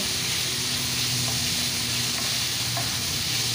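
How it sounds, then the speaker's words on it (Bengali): Minced meat fries with onion and tomato in a pan, a dense continuous sizzle and hiss running throughout, with soft stirring scrapes close by. "কিমাটা দেওয়ার পর বেশ ভালো করে একটু নাড়াচাড়া করে এখন মিশিয়ে নেব।"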